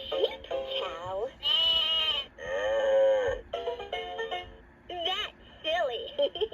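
Electronic voice and music from a Leapfrog Fridge Farm magnetic animal toy, 2007 version, including a bleating sheep sound among sung and spoken phrases, played loud and close in short bursts with pauses.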